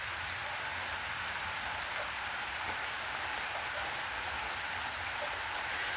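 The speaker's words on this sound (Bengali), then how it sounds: "আম গাছের পাতায় বৃষ্টি পড়তেছে বাঁশ ঝাড়ে বৃষ্টি পড়ছে" Steady rain falls on mango tree leaves and bamboo thickets in rural Bangladesh during the monsoon, a soft, continuous patter heard alone with no voices.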